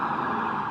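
An ambulance siren sounds at Ground Zero amid the smoke and debris, a steady, loud wailing tone held without a break over a brief moment.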